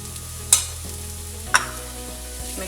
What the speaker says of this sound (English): Mix it properly.